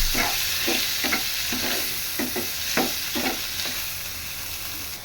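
Cleaned dried loitta fish fries lightly with a little salt in a pan, making a steady sizzle broken by a regular rhythm of spatula scrapes, close and unvoiced.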